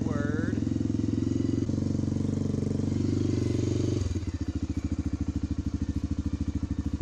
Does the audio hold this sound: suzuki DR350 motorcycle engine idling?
yes